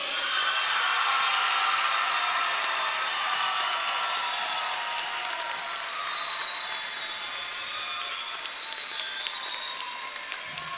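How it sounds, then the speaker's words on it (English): Graduation audience breaks into sustained applause, a dense wash of clapping hands from a large crowd that stays loud and steady throughout, with a few faint cheers mixed in. "Let's give them a round of applause."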